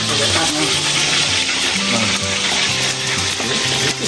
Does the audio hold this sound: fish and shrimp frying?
yes